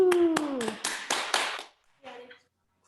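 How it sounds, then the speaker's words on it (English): A burst of several sharp hand claps rings out close and loud over a voice, followed by a brief quieter sound. "That was a loud ass clap."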